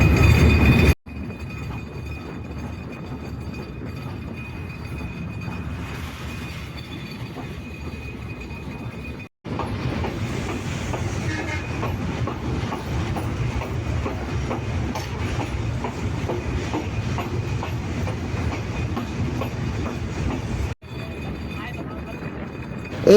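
Train rolling across the Jamuna rail bridge in Bangladesh, a steady loud rumble with rhythmic clatter of wheels on rails, heard from on board, continuing unbroken apart from two brief cuts.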